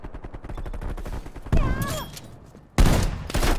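Burst gunfire from an AUG rifle and other weapons in the video game Black Ops Cold War, loud rapid volleys in several bursts with brief gaps, no talk over it.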